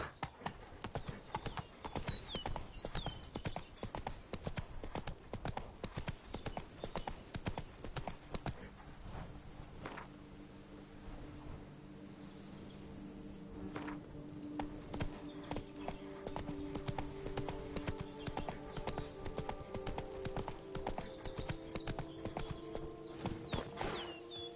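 Roach, a horse in the video game The Witcher 3, gallops in a rapid, steady clip-clop of hooves that runs almost the whole time, fairly quiet, with a brief slower stretch and a faint whinny-like tone partway through.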